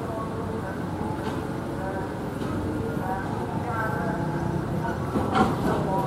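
Hype Trip passenger carriages being shunted in a rail yard, their low rumble steady and continuous with faint clanks, while people talk over it throughout.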